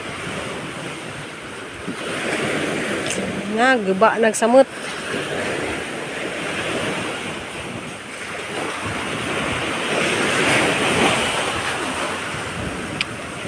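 Rough sea surf at Liloan port, waves washing steadily with wind noise across the whole stretch, while a person talks briefly over it near the middle.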